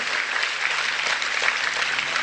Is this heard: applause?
yes